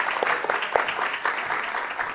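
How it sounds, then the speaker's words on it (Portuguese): A church audience claps to welcome a guest onstage, a brief burst of many hands with a few sharper individual claps standing out over the crowd. "Aplausos para o Jackson."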